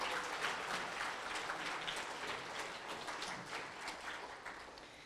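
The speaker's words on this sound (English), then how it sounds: "Let's give them another round of applause" Audience applause at a school Citizen of the Month ceremony, soft, steady clapping from a crowd heard at some distance, continuing without pause and fading slightly toward the end.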